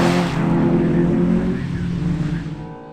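A rally car on a stage at the Shackleton round of the summer series, engine roaring loud and close before fading away as it drives off.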